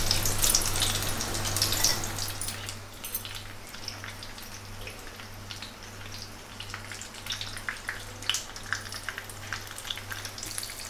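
Battered chili pepper fritters (mirchi bhaji) fry in hot oil on low gas, giving a close, continuous crackling sizzle with scattered sharp pops and a steady low hum beneath.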